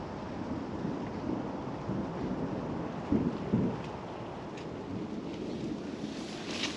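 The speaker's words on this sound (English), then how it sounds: "As the thunder rumbles on" Thunder rumbles low and distant over steady rain beside a river during a fishing session, swelling into a louder roll about midway before fading back into the wet background.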